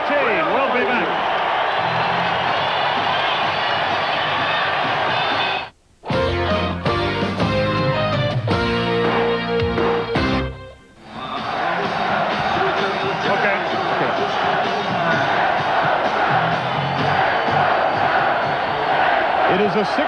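A dense crowd of over 15,000 roars at a 1990 NBA playoff basketball game between Phoenix and Portland, with a sustained loud cheer, a short dip filled with music-like beats and stomps, then the roar swelling back and holding.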